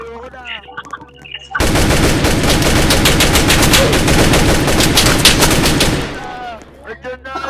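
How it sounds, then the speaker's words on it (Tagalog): Sustained automatic gunfire in a shooter video game, a loud continuous rattle of rapid shots lasting several seconds, with quieter game sounds and voices before and after the burst. "Baril lang yan"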